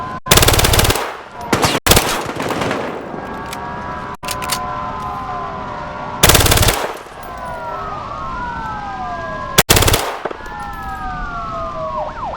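Gunfire in the video game Battlefield Hardline: loud bursts of automatic fire break out repeatedly over wailing police sirens, with short gaps between volleys.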